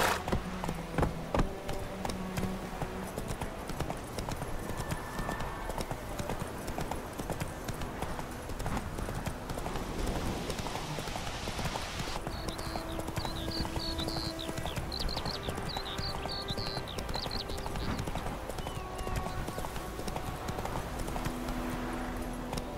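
Horse Roach galloping in The Witcher 3, a steady, rapid clip-clop of hooves close up throughout, with game music and ambience layered underneath.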